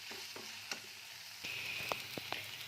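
Ginger-garlic spice paste frying in a wok over a medium flame for a soya chunk curry, a soft continuous sizzle with a few light clinks of stirring, close and fairly quiet.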